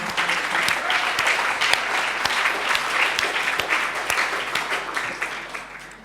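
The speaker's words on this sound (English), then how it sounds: "Can we just go ahead and give all the people who cared for us in our lives a big round of applause of recognition." Big round of applause from the audience at a talk on the global care economy, a dense, steady wash of many hands clapping close and loud for about six seconds with no voices.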